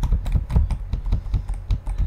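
Quick, uneven keystrokes on a computer keyboard during a home music production session, a dozen or so close clicks in a steady run with no voices.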